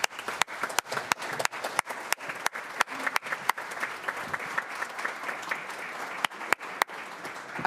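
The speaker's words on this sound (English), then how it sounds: "Give them a big round of applause from Maple." An audience at a school board public meeting applauds a Maple High School group gathered at the centre of the horseshoe, a steady wash of many hands clapping with sharp louder claps standing out across the whole stretch.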